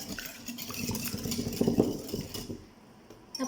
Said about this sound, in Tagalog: imi-mix ko lang ang 7 egg. Mix ko lang sila.